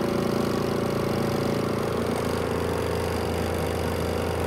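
A mini portable washing machine runs a dry spin cycle indoors, giving a steady, loud mechanical hum and whir with a constant low drone and no pauses.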